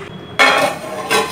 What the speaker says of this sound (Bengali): এবার আমি গ্যাস অফ করে দিয়ে এটা ঢেকে 5 মিনিট দমে রেখে দেব।